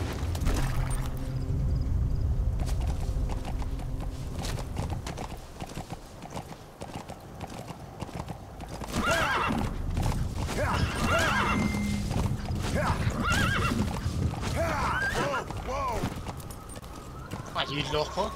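Horse hooves clip-clop at a run with a couple of whinnies in the video game Metal Gear Solid V: The Phantom Pain, set against steady background music and sound effects, with someone talking in between.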